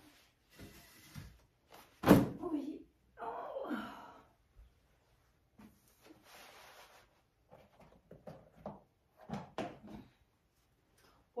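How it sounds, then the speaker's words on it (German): A stuck door that will not close properly being pushed shut indoors, giving a sharp bang near the start followed by scattered knocks and rattles, with a brief exclamation and quiet talk around it. "Jetzt mal, wie diese blöde Tür da nicht zugeht"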